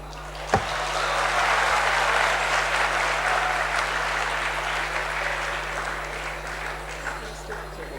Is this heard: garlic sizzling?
no